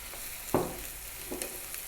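Shrimp go into a hot pan for fried rice: one bright splash of sizzle, then a softer steady frying hiss with light stirring taps, close and without talk.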